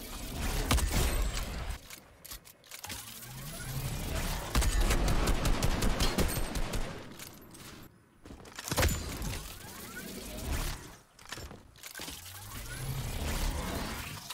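Rapid bursts of gunfire in a first-person shooter video game, loud automatic-sounding volleys with mechanical clatter, broken by short quiet gaps, with no voices heard.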